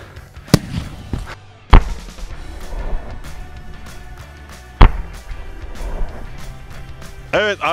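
A watermelon with sodium placed inside blows apart in a series of sharp, loud blasts and cracks over ongoing fizzing and crackling, with a whistling, rising squeal near the end.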